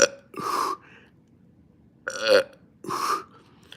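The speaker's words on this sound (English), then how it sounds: "I burp all the gas." Three loud, close burps in quick succession, each a short guttural belch separated by brief silences, with no other talk.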